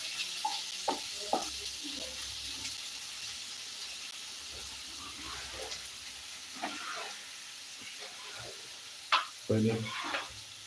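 Prawn roast sizzles and hisses in a pan as it is fried and stirred, a soft continuous frying hiss broken by scattered scrapes and clinks of the spoon, with a louder knock near the end.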